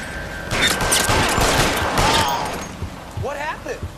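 Bursts of gunfire in the video game L.A. Noire during a police shootout, dense overlapping shots with a loud rattling stretch, then quieter scattered fire under game voices and chatter.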